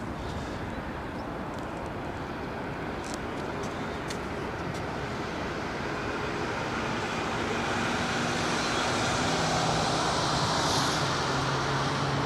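A jet aircraft engine spools up at Heathrow, a steady broad roar slowly building in loudness over the whole stretch, heard from a distance with no talk.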